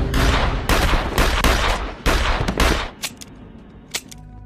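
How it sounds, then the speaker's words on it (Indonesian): A rapid volley of loud, sharp pistol gunshots in a film, several bursts firing close together for about three seconds, then a few isolated cracks amid quieter rumble. "Vlad kalah cepat dengan Tanya yang lebih dulu menembak Vlad."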